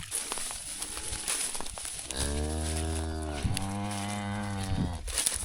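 A big cow moos in a pasture, one long, loud, close bellow with a brief break partway through, over faint wind and rustling, with no voices.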